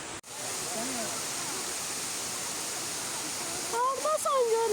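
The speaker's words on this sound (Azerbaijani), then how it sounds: "Şəlalənin buz kimi soyuq suyu dağlardan süzülərək aşağı axır" Mamırlı waterfall in Qax pours down from the mountains in a steady broadband rush, with brief whistle-like tones and voices near the end.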